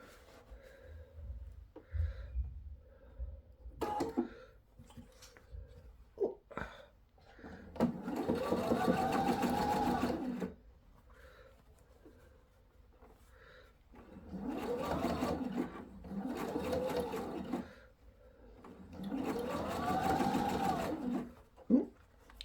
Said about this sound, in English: you're ready to sew the brim to the hat